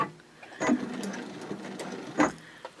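A sewing machine stitches a seam at a 3.0 stitch length with a 3/8 inch seam allowance, running slowly in short bursts of soft mechanical whirring and clicking, close and fairly quiet.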